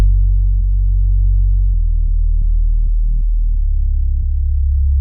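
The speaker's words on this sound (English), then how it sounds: "now we need like a synth bass line, so I went into my Arturia folder" Deep synth bass line from an Arturia plugin, a low sustained throbbing tone that shifts notes every half second or so, steady and loud with nothing else playing.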